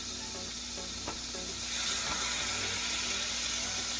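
Beef broth sizzles loudly in a pot-roast pan as seasoning is scraped from the bottom, a dense continuous hiss with a couple of faint scraping knocks.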